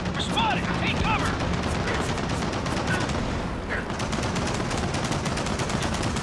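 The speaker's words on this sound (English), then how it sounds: "The lab's just beyond that security machine gun nest." A security machine gun nest in the Gears of War 4 campaign fires a rapid, continuous rattle of automatic gunfire, dense and loud throughout, with voices calling out over the shooting.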